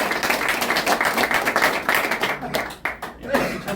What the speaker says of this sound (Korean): 제 아내를 위해서 박수 한번 쳐주십시오.